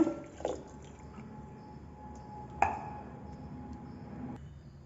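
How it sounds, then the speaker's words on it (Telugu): The last of the water is poured into a mashed finger-millet (ragi) mixture, making a couple of short, close splashes and wet drips in an otherwise quiet kitchen. "మిగిలిన వాటర్ని ఇందులోకి వేసేసుకోవాలన్నమాట"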